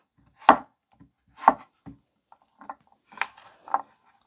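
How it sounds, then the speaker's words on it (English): A Pickwill 8-inch Damascus VG10-core chef knife rocks and chops through food on a wooden board, giving a handful of crisp, close thuds at irregular intervals with softer taps between, no talking. "we can use this beautiful curve here on the blade to do a little bit of rocking and chopping"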